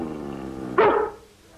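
Collie barking and growling in a 1950s television drama scene, a low rumbling growl followed by one sharp, loud bark close by, then quiet.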